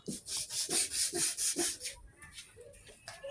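Body filler being sanded by hand on a car panel in a restoration workshop: a close, loud back-and-forth rasping in about ten quick even strokes, then quieter scattered scraping.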